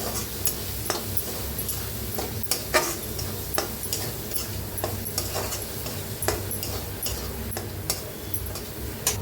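A spoon clicks and scrapes steadily against a pan while spices are stirred into cluster bean curry, a regular ticking rhythm over a low background hum.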